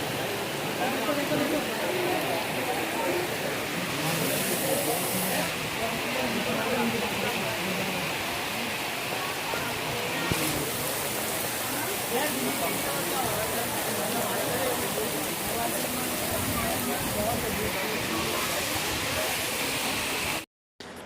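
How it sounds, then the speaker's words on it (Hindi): Heavy rain pours steadily along the mountain trail from Katra to Vaishno Devi, a dense, even hiss that holds for about twenty seconds with little change and cuts off abruptly at the end. "बारिश काफ़ी तेज़ हो रही थी"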